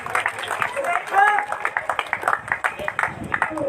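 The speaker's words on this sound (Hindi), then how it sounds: "एक जोरदार ताली।" Crowd applause at a cricket award ceremony for a T-20 final's best batsman: a steady, rapid patter of many hands clapping at moderate distance, sustained throughout, with a brief voice at the start.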